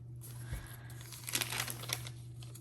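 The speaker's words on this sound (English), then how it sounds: "I love the sound of the paper" Paper pages of a Hobonichi Cousin planner are flipped and crinkle softly, with a few brisker rustles in the middle, over a low steady hum in a quiet room.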